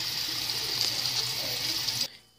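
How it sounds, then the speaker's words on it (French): Water runs steadily over a treasure-hunt block during rinsing, a continuous close splashing rush like a tap stream that cuts off abruptly near the end. "pour rincer notre bloc"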